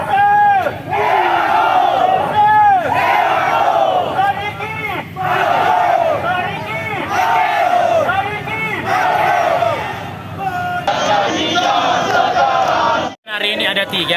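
Thousands of PSM football supporters chant together loudly at a street protest, a dense roaring crowd with rhythmic rising shouts sustained throughout, briefly cutting out near the end.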